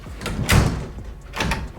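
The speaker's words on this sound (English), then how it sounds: "close your door and manually lock the deadbolt" A front door swings shut with a solid thud, then the deadbolt on a Wyze smart lock is turned by hand with a second clunk a moment later, close and loud.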